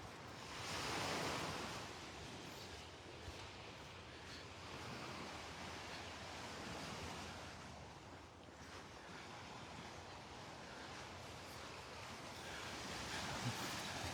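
Ocean surf rolls steadily onto the beach at Delnor-Wiggins near Wiggins Pass on an early morning walk, a continuous close wash of breaking waves mixed with wind buffeting the microphone, with no talking.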